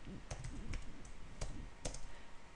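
A few separate key clicks from a computer keyboard as a shortcut is pressed at a command line, quiet and close, scattered over a soft room background.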